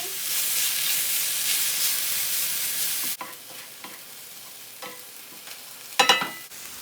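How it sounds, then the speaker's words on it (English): A pound of ground beef fries on a cast iron pan over medium-high heat, with a loud, steady sizzle for about three seconds, then a quieter crackle broken by scraping stirs and a sharp clatter near the end. "Right now, I have 1 pound of ground beef on the cast iron on medium-high heat."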